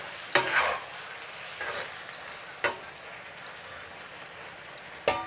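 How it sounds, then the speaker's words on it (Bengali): Singi fish curry with garam masala cooks in a pan. A faint low sizzle runs under four scraping stirs spaced a second or more apart, with no talking. "এখন একটু চারপাশে নেড়ে দিয়ে"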